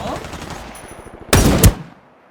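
Gunfire in the shooter game Ring of Elysium: a rapid patter of faint shots followed by a loud, close burst of a few heavy rounds that quickly fades out.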